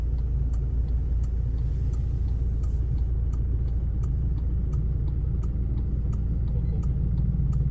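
Cars sit in a traffic jam near a gas station, with engines idling and rumbling in a dense, continuous low drone and no distinct voices.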